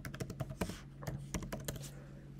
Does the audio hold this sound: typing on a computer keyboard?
yes